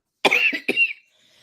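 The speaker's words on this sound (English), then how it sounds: "I'm sorry, I'm coughing on air" A single person coughs up close on air after aspirating, a quick burst of two or three harsh coughs, then quiet.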